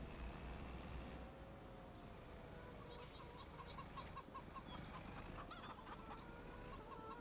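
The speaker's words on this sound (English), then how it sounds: "Chickens are clucking away" Chickens in the Farming Simulator 25 video game cluck softly and repeatedly at a low level over a steady ambient bed, with a few brighter chirps.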